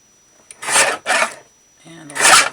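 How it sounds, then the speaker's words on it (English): Paper for a spring quilted journal is trimmed to fit, producing three close, brief rasping cutting strokes separated by short silences. "Trim it back so it fits a little better."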